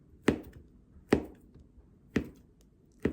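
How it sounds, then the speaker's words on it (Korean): A knife chops through raw sweet potato with its skin on, four sharp separate cuts landing at a slow, steady pace on a cutting board, close and clear with no talking. "고구마를 이렇게 썰었습니다"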